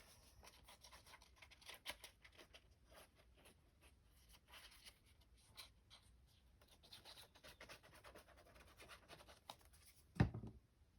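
A paper craft piece for a toaster page is filed with a series of soft, faint rasping and rubbing strokes close by, ending in a brief louder knock.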